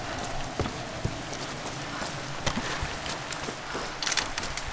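Rain pours down in the Tomb Raider game as a constant, moderately loud patter and hiss, punctuated by occasional sharper drip or splash ticks, with no speech over it.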